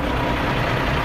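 Truck engine noise beside a waste recycling centre, a steady loud low rumble filling the whole moment with no speech over it.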